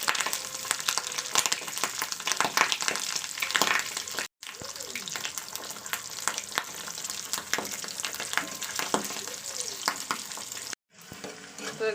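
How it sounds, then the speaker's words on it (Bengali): An egg fries in plenty of bubbling hot oil, giving a bright, continuous crackling sizzle with occasional scrapes, close up and with two brief cutouts. "তো চলুন ডিমটা ভাজা করে নিই।"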